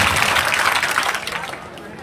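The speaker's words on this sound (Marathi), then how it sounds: "त्याच्यासाठी टाळ्या वाजवा सगळ्यांनी" An audience applauds at a motivational lecture in a hall, with dense, steady clapping from a crowd that fades out toward the end.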